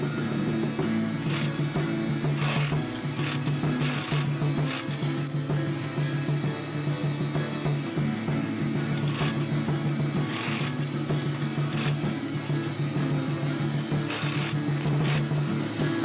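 A sewing machine stitches a compression strap for a sleeping bag, humming steadily with a rapid mechanical needle chatter, interrupted by short clicks and pauses as the fabric is turned.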